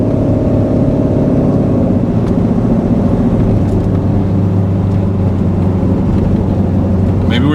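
A Katech C7 Z06 Corvette engine runs loud and close under acceleration, a dense low droning roar with an uneven, stuttering texture as it breaks up, steady throughout with no clear pauses.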